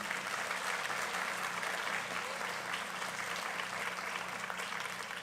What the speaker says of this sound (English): How about a round of applause for the first team?